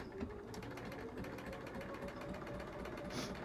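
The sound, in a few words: sewing machine stitching straight lines while quilting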